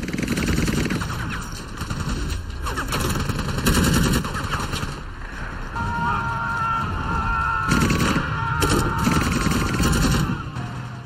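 Machine gun and battle gunfire effect: sustained rapid automatic bursts with heavy fusillades, loud and dense, with faint screaming mixed in.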